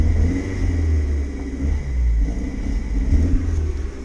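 A Toyota MR2 Spyder MK3 roadster engine idles and revs with a hesitant, uneven rise and fall, a deep close rumble that surges and sags throughout without anyone speaking.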